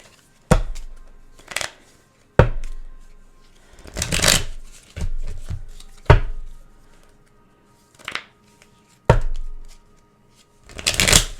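Love Oracle cards are shuffled in a series of loud riffling bursts close by, each a second or so long with short pauses between, with no voices during the shuffles.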